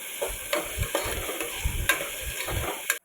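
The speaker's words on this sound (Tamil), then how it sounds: "2 மீடியம் சைஸ் வெங்காயம் நம்ம இதில் சேர்த்து பொன்னிறமாக வர வரை நம்ம இதை வதக்கி விடலாம்" Two medium onions sauté in hot oil with spices for a veg salna, a steady sizzle broken by regular scraping strokes of a spoon against the pan, close and continuous.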